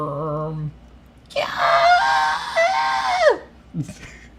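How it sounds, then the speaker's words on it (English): The cleric beast in a video game lets out a loud, harsh, wavering scream lasting about two seconds, preceded by a low tonal sound and followed by a brief grunting tail. "That was the cleric beast scream."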